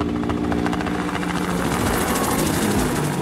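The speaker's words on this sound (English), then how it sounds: "Agricultural Helicopter." Agricultural helicopter, a steady throbbing rotor and engine drone, loud and close, with no other sounds.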